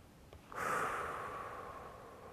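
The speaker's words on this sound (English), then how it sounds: "Maintaining our nice deep breathing exercises." Deep, steady breath during a balance and calf-stretch exercise, a long airy exhale that swells in suddenly and then slowly fades, close and alone with no talk.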